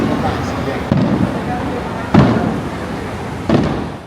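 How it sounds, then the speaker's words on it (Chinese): Fireworks go off during the evening show at Keelung's Ocean Eagle Carnival, with distant thuds and booms at intervals under crowd noise and a steady voiceover. "晚上还有美丽的烟火秀登场"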